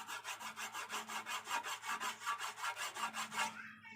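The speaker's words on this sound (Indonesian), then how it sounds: "Apalagi ini pakai gergaji ini ya guys" A hand saw rasps back and forth through wood in a steady, even rhythm of quick strokes, close by, then stops near the end.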